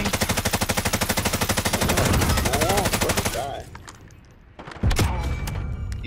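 Sustained machine-gun fire in a shooter video game, a fast regular stream of loud shots lasting several seconds, then a lull and a renewed burst, with faint voices underneath.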